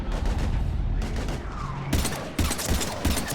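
Sci-fi gunfire in Mass Effect 3 during a firefight with husks: rapid, sustained bursts of automatic weapon fire, loud and close, with sharper shots overlapping near the end and brief gaps between volleys.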